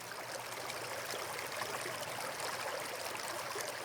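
A shallow creek courses along in an unbroken hiss of moving water, close and fairly loud, with faint gurgles inside the flow and nobody speaking.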